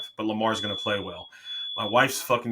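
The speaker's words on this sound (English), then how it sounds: "Who makes frozen pizza and sets off the smoke alarm every time?" A smoke alarm sounds in a home kitchen after frozen pizza cooks in a brand new oven, a thin steady high-pitched tone droning continuously beneath someone talking close by.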